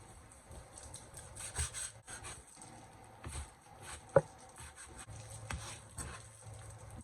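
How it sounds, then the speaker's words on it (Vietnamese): A knife slices cold cuts thinly on a cutting board, a quiet, irregular series of soft rasping strokes and light taps with one sharper knock, heard close in a calm kitchen. "Thịt nguội mình sẽ đi xắt thịt ra, mình xắt cho nó mỏng rồi mình xắt cộng lại á."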